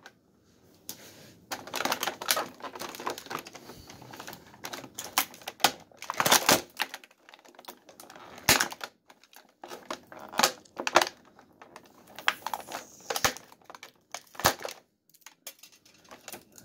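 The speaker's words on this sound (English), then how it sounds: "let's get this figure out of the packaging for us now" A Marvel Legends Cosmic Ghost Rider action figure is pulled from its plastic packaging: repeated close crinkling, tearing and snapping of plastic in irregular bursts, with brief quiet gaps between handling.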